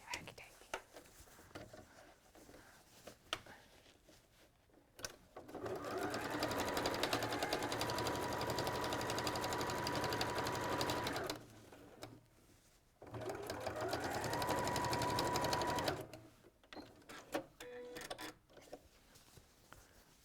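Domestic sewing machine stitching fabric in two long, steady motor runs with a rapid needle chatter, close and loud, separated by a short pause, with quiet talk and handling noises before and after.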